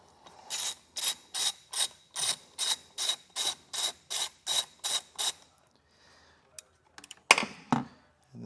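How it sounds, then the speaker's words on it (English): Ratchet wrench fitted with a 12 mm socket loosening the nut on a vehicle battery ring terminal, a 2024 Kia Telluride; about a dozen quick, evenly spaced clicking strokes, close and clear, then a pause and a few scattered clicks. "It's going to be a 12 millimeter socket,"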